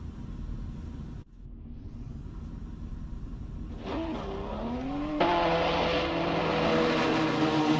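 BTCC touring cars race at Thruxton Circuit, a distant rumble that swells as engines rise and pitch upward through the gears, growing louder and nearer toward the end.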